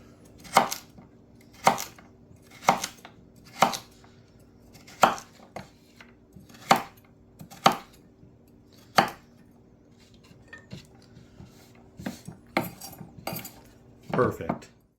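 Carrots are sliced with a knife on a board outdoors. About a dozen crisp, loud chops come at a steady pace of roughly one per second, with a short quicker burst near the end.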